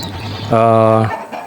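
Native village chickens (ayam kampung) give a single loud, drawn-out squawk or cluck lasting about half a second, close by, with faint background noise before and after.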